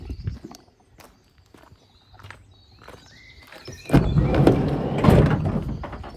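Sliding side door of a 2015 Ford Transit Connect 1.6 TDCi van opening, preceded by footsteps and light clicks, then a loud rolling rumble as the door slides back, close by.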